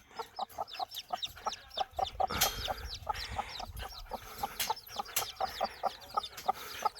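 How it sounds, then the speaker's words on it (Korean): Rapid high-pitched peeping from seven chicks tussling over an earthworm fills the scene, constant overlapping chirps with occasional louder calls and soft scuffling. "삐약삐약 여기는 병아리 축구장"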